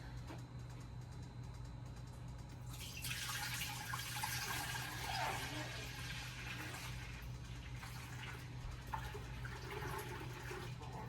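Cream pours steadily into a container, a soft continuous splashing stream that swells after a moment and then trickles on, with no talking.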